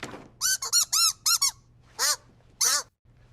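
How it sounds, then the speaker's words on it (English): An AI-generated rubber duck gives a string of nervous, high-pitched squeaks, about eight short close bursts in quick uneven clusters, loud and clear over a faint low hum with no talking. "Nervous squeak from rubber duck."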